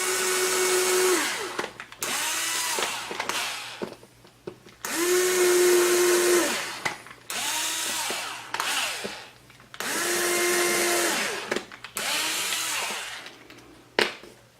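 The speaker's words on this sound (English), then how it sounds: "we're drilling a pilot hole in the wood, so we're going to use the 1/16 inch bit" Cordless power drill with a 1/16 inch bit boring pilot holes into wood: three long whirring bursts separated by short pauses and brief spin-up blips, loud and close with no talking.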